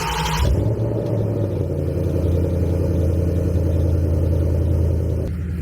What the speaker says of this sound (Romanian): Acum haideți să facem cold start-ul de astăzi.